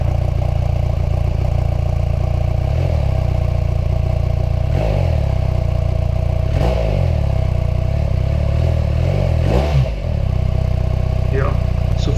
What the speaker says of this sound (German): so für sich alleine hört sich die R1300 GS mit dem Serienauspuff ganz okay an